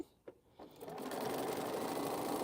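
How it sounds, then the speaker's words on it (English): A sewing machine starts up after a couple of faint clicks and settles into a fast, steady whirring stitch, close and even, with no talking over it. "I'm just sewing, guys."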